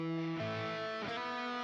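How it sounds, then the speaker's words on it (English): A sustained, harmonically rich tube-saturation distorted tone with a gritty, saturated buzz, shifting pitch twice, steady and loud throughout with no voices. "You hear that distortion?"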